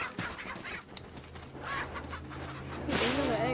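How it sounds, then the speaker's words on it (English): Chickens in Resident Evil 4 cluck intermittently, close by, with a low steady background hum, and a voice sounds over the final stretch. "Chickens."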